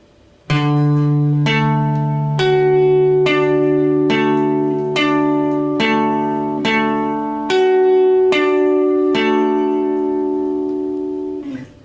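A guitar plays a riff as a steady series of about a dozen clean plucked notes, each ringing into the next, loud and close with no voices.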